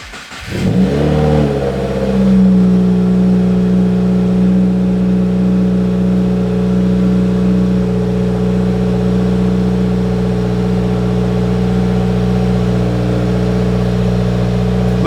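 A 2020 Subaru WRX engine with a newly installed AEM fuel pump cranks and catches, then revs up and settles into a loud, steady mid-pitched running hum that continues without voices.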